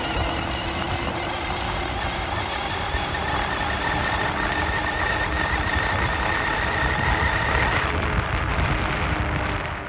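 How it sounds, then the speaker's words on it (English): A DIY mid-drive e-bike motor winds up through a gradual acceleration to 25 km/h, giving a constant mechanical whir and hum over heavy rushing wind noise that shifts near the end. "Now I'm doing a gradual acceleration up to 25 kilometers per hour."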